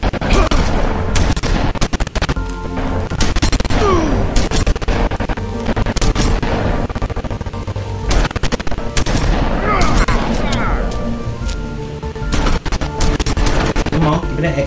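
Gunfire and heavy impacts in the video game The Wolf Among Us, loud and continuous across a dense, busy mix with repeated shots and crashes, while voices are heard over the action.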